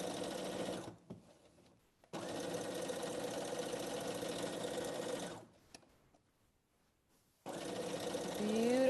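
A sewing machine stitches an apron belt onto denim in three close, steady runs of rapid mechanical chatter. Short quiet pauses separate the runs.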